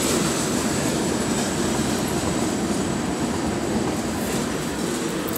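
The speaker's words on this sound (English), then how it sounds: "Loud ass train" A loud train rumbles past close by, a continuous roar of wheels and rails with faint clatter and squeal, no voices.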